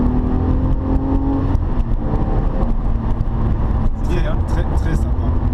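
A Porsche 911 Carrera S of the 997 generation accelerates hard down a straight, its engine a steady, loud roar heard from inside, while people talk in French over it.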